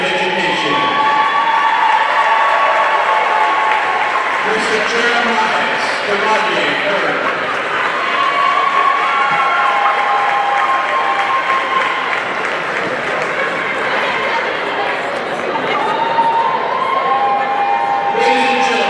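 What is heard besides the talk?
crowd applause and cheering for high school seniors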